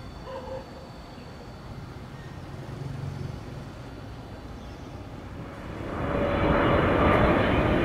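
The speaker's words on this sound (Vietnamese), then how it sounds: "đây là pha hạ cánh của một khách quen ở sân bay Nội Bài, một chiếc Boeing 777-300ER của hãng EVA Air" An EVA Air Boeing 777-300ER lands at Noi Bai airport. A steady, distant jet rumble swells into a louder, fuller roar over the final seconds, with no talk.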